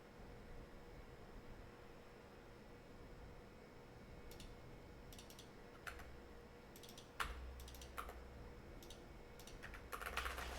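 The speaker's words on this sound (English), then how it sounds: "Keyboard." Faint, scattered clicks of typing on a computer keyboard come in short bursts over a steady background hiss, with a few louder keystrokes near the end.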